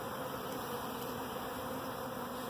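A honeybee swarm gathered at a tree makes a dense, continuous buzzing hum, close and steady for the whole short stretch with no talking.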